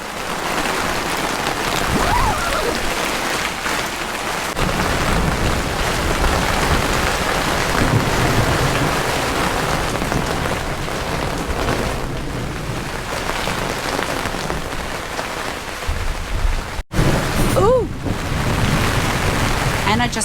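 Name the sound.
heavy rain during a storm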